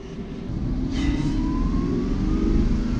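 A car engine revs loudly and steadily up close, its pitch climbing gradually under a constant low rumble, with a brief brighter burst early on.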